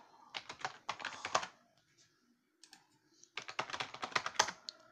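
Typing on a computer keyboard, close and crisp: two quick bursts of rapid key clicks separated by a near-silent pause, with no talking.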